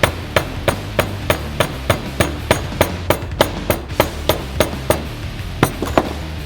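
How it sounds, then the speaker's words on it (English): A hammer taps a bushing into a truck control arm during a ReadyLIFT SST 4-inch lift kit install, about twenty sharp metallic strikes in a steady, even rhythm, loud and close, with no talking. "take the hammer and just tap it down"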